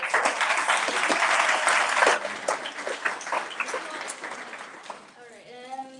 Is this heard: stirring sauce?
no